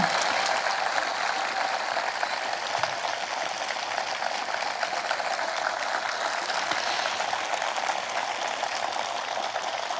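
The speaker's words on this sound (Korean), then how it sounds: "여러분 올해와 같은 박수 보내주십시오." Applause from a large outdoor crowd at a memorial ceremony for a former president, a dense continuous patter of many hands, steady and fairly distant throughout.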